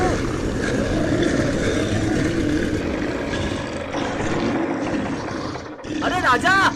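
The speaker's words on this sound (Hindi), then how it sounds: "अरे राजा, तुमने ट्रैक्टर क्यों रोक दी?" A cartoon tractor engine runs steadily with a mechanical rattling chug throughout, fairly loud and close, with a brief dip and excited voices breaking in near the end.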